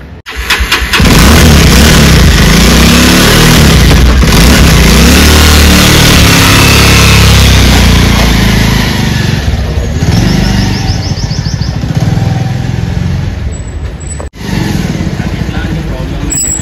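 A Royal Enfield Himalayan motorcycle fitted with a bike umbrella accessory starts up and then runs loud and close with a steady engine rumble that lasts throughout, easing slightly near the end.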